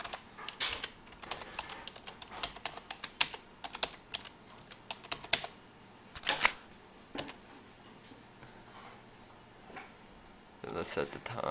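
Keys on a computer keyboard clatter as a password is typed during a Windows XP reinstall, in quick irregular runs of soft, close taps with short pauses, fairly quiet and heard alone.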